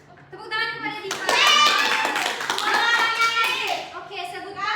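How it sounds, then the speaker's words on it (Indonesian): Children in a classroom clap together, an uneven burst of hand claps mixed with voices and chatter over a few seconds, with a teacher's voice at the start and end. "Tepuk tangan kepada Diva."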